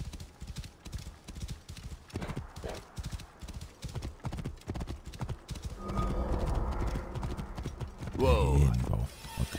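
A horse in the Assassin's Creed Origins video game gallops with rapid rhythmic hoof clops, then lets out a loud close neigh near the end, with talk in the background.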